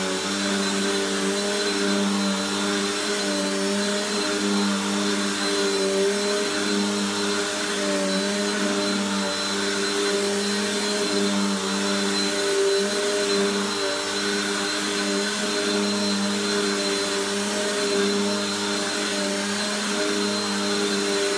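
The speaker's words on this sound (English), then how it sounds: "Helix, and this will be the last vacuum. So here we go." A Helix vacuum cleaner runs steadily, its motor a loud constant whine with a layered humming drone that holds unchanged throughout, with no talking.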